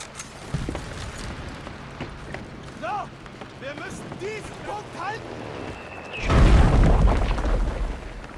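A game voice speaks under low background noise, then a loud anti-tank grenade explosion in the video game Enlisted bursts close by with a heavy, rumbling blast near the end.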